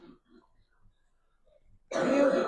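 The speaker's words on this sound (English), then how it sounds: "Can you hear my daughter coughing? Sounds horrible." After near silence with faint rustles, a young girl's single harsh cough or throat-clearing bursts out, close and fairly loud, lasting under a second.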